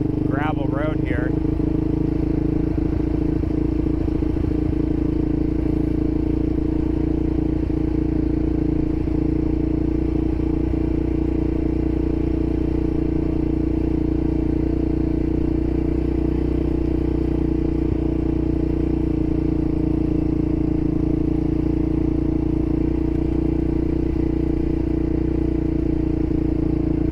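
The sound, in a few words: ATV engine in second gear on gravel road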